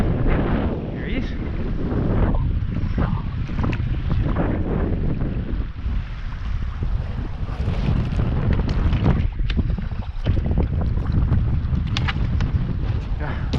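Strong wind roars across the microphone during Tailor fishing on the Swan River, a loud constant buffeting rush that covers the whole stretch, with water lapping underneath.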